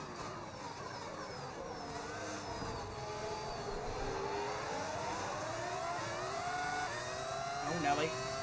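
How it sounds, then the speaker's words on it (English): A modded Formula 1 car engine in the racing game F1 26, a steady, high-pitched whine with rising and falling gear pitch sweeps, continuous throughout. "Is this engine sound modded? It is indeed, yes."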